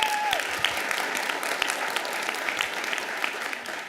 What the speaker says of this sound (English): that is worthy of another applause.